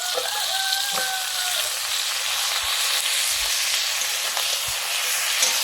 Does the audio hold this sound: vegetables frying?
yes